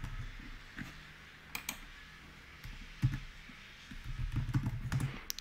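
Fingers type on a computer keyboard at a Windows command prompt, a few scattered key clicks followed by a quicker run of taps near the end, quiet and close.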